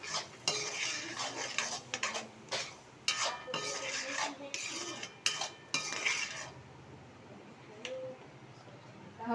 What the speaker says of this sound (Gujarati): પછી હલાવી, આપણે મસાલો હલાવીને રેડી થઈ ગયો છે।